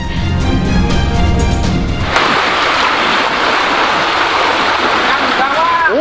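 Floodwater from a river in Cirebon rushes loudly along with a broad, steady roar, carrying food cartons downstream; after an opening stretch of mixed talk and noise, the current dominates, close and continuous.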